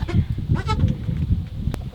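A Boer and Kiko cross goat bleats repeatedly at close range in a farm setting, several loud wavering calls in quick succession.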